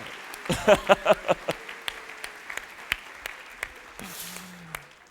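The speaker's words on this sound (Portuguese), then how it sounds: "Eu quero que agora a gente levante um forte aplauso para essas mulheres na comunidade da graça." Church congregants clap for the community's women; several strong, close claps ring out in quick succession before thinning into scattered, fading claps, with a brief voice near the end.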